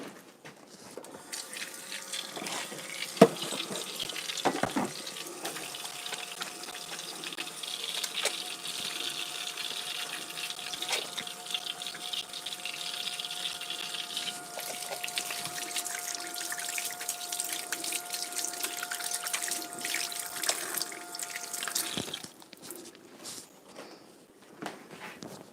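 Tap water runs steadily into a kitchen sink while hands are washed under it, a continuous splashing gush lasting about twenty seconds, with faint clinks and movement before it stops and the room falls quiet.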